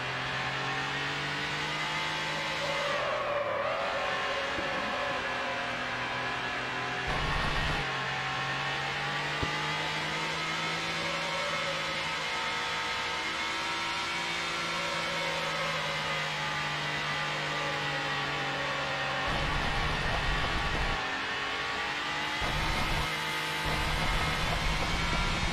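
Racing cars in Need for Speed HP2 hold a steady, droning engine hum with harmonic whine, rising and falling slightly as they pull away, loud and continuous.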